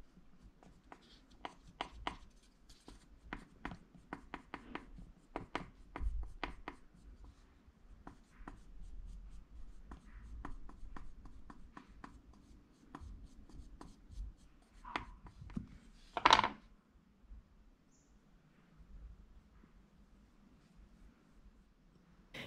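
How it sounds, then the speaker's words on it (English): A smooth, flat sculpting tool drags and scrapes over soft clay, drawing it up the sides of a slab-built vase, in faint, irregular strokes and taps with one louder knock near the end and no talk. "Use a smooth, flat sculpting tool to draw the excess clay around the base up the sides of the vase."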